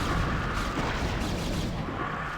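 Rapid photon cannon fire and explosions in StarCraft Brood War, a dense, loud barrage of overlapping blasts and booms with no pauses, heard alone without talk.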